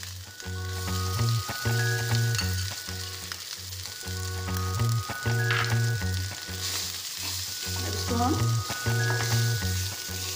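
Continuous sizzling of boiled mashed potatoes frying in a pan over a medium flame, steady and close, with a repeating musical backing underneath.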